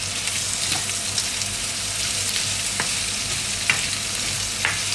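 Ginger, onion and garlic fry in a pan with a loud, continuous sizzle, broken by occasional scraping and clicking as they are stirred.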